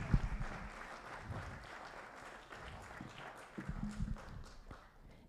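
An audience at a social entrepreneurship conference applauds a panelist, with a steady patter of clapping and a few heavier claps rising and falling over several seconds.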